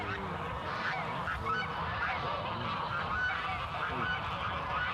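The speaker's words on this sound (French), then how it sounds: "Faites abattre ces oies." Geese honk repeatedly in a dense, overlapping chorus, loud and close, the calls rising and falling over one another without pause and with no speech.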